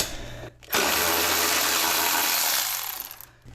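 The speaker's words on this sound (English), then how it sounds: "first thing we're going to do is take off the old bolt just to confirm the pitch on that nutsert" Removing an old M8 bolt from a nutsert on a Toyota 4Runner with a power tool: one loud, steady whirring burst of about two and a half seconds, close up, with brief quiet gaps before and after.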